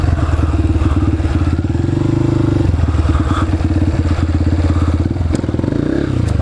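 Dirt bike engine revving hard in first gear during a wheelie attempt, a loud, close, rapid pulsing drone that holds steady with slight rises and dips and some clatter over the top.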